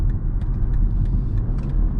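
A 2024 BMW X2 M35i driven in sport mode gives a steady, loud engine and road rumble from inside the cabin, continuous for the whole stretch, with faint higher ticks and no talking.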